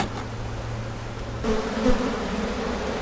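Honey bees buzz steadily around an open hive during a fall inspection, a close, continuous drone with no voices.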